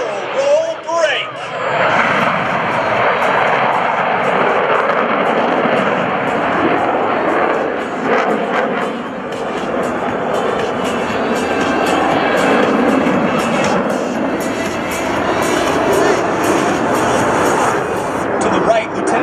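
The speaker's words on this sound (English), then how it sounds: "The Blue Angel barrel roll break." US Navy Blue Angels F/A-18 Hornet jets at an airshow, a loud sustained roar of jet engines rushing past. An announcer talks over the noise.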